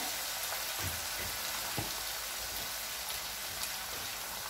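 Beef kidneys dropped into a pan of already well-cooked onions sizzle steadily, a dense continuous frying hiss with a few faint clicks and pops throughout, no voices.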